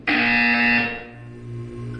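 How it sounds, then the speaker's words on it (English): Loud harsh buzzer in the video game Portal 2, a single sustained electronic blare lasting under a second that cuts off abruptly, leaving a low hum behind. "You will hear a buzzer."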